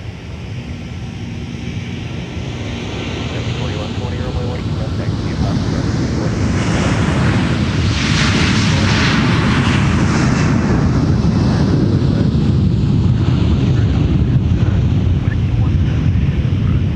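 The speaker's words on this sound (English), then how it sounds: "here goes Discover off to Frankfurt, Germany with the A330-300" A Discover Airlines Airbus A330-300 departs for Frankfurt, its engines building from a low rumble to a loud, sustained roar with wind buffeting the microphone; talk can be heard under the noise.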